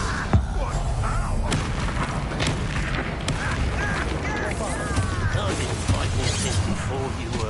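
A fire spell cast in a Harry Potter video game lands as a sharp boom among repeated impacts and crackling effects, set over a dense, continuous game soundscape with speech running through it.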